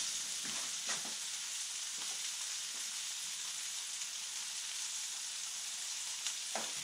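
Fish frying in olive oil in a pan, a Roman-style recipe, gives a steady, close, bright sizzling hiss with a few scattered pops and crackles throughout.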